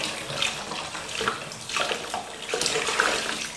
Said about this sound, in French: Je vais rincer le soin que j'ai mis dans mes cheveux